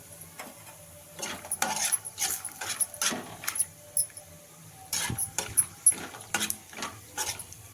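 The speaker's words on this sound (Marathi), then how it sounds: "शेंगदाणे परतले की चांगले लाल परतून घ्यायचे." Peanuts being stir-roasted in oil in a pan over low heat, heard as frequent irregular scraping and rattling stirs over a faint sizzle.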